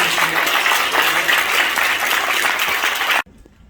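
Vigorous audience applause for two award recipients at a church award ceremony, loud and steady for about three seconds before cutting off abruptly into quiet.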